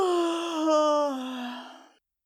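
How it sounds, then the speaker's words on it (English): A woman performs a deliberate, perfunctory yawn in a stage reading, a single drawn-out voiced exhale that rises briefly and then fades, close and clear with no other sound. "Imogen yawning in a perfunctory way."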